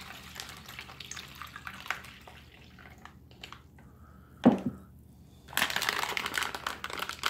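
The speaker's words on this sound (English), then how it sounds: "We'll add our 300 mils of cold water." Cold water, about 300 ml, is poured into a shaker container with raspberry-flavoured powder, a brief splash followed by a steady, fairly loud gush near the microphone.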